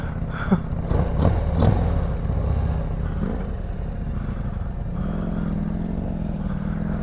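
Harley-Davidson CVO Road Glide ST motorcycle, a 2026 model being ridden on break-in miles, rumbling near and steady with clattering transients early on, then a settled, continuous engine drone.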